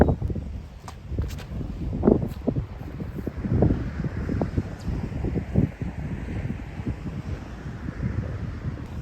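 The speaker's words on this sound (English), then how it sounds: "That's a lot of wind." Strong wind gusting across a disc golf course, buffeting the microphone with a steady low rumble and swelling roars throughout, no voices.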